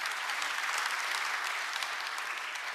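A large audience applauds at a Korean government policy briefing, a dense, steady wash of clapping that holds evenly throughout with no voices over it.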